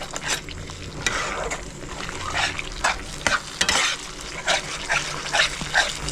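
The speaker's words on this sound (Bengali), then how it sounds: "দিয়ে মশলাটা ভালো করে কষাই নেব।" Spice masala being fried and stirred in a pan on medium heat for a wedding-style Bengali chicken roast, with a steady sizzle broken by repeated scraping stirs.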